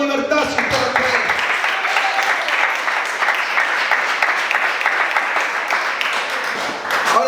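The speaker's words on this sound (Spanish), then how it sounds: "Aplaudan con libertad si ustedes pueden." A church congregation applauds during a sermon, sustained clapping from many hands filling the room for several seconds, with a voice briefly heard as it begins and again as it ends.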